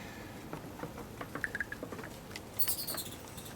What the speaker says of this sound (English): I can hear them scrambling above